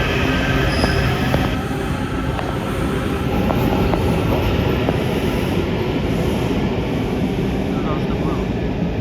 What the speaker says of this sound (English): let's watch the train leave.